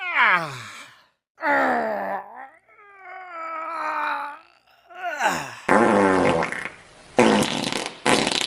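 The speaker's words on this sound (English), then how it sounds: "I have to go to the bathroom and test Ellen Farts' farting sound effect" A run of loud comical farting sound effects: squeaky, sliding tonal toots with short gaps, then harsher raspy sputters near the end, with no other sound.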